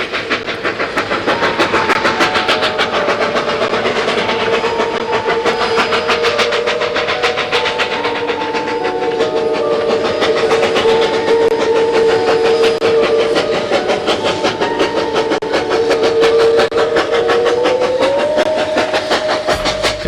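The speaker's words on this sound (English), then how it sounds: "folks who ride the Silverton from November to May get a special treat: narrow gauge railroading in the silvery San Juan winter" Durango & Silverton narrow gauge train running through the San Juan mountains, a continuous loud rumble with rapid rhythmic chuffing and clatter and sustained tonal hum rising near the end, no voices.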